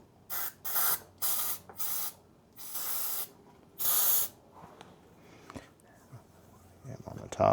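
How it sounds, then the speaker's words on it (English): Short bursts of white lithium grease sprayed from an aerosol can onto an old, rusty ball vice being refurbished for jewelry making and engraving, six hissing blasts of varying length, close and fairly loud, with a faint voice between. "I'm going to use white lithium grease, just as a little extra"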